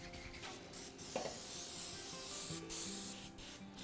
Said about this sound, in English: Got a little vegetable spray here.